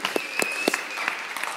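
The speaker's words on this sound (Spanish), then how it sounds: "date un fuerte aplauso" A church congregation applauds in scattered, uneven claps with sharp individual hits over a softer wash of clapping, moderately loud and close, with a faint steady tone running through.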